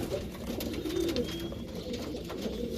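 Pigeons in a loft cooing in soft, low, repeated calls, several birds overlapping at moderate distance over a steady background hum, with no talk.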